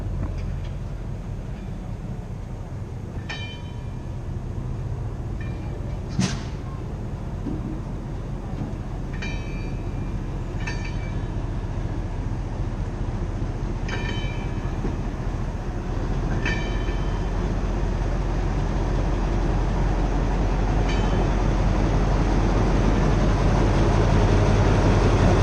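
A heritage railway train at a rural Norfolk station slowly starts to move, giving a steady low rumble with faint intermittent clicks and squeals of wagons throughout, fairly close and building slightly.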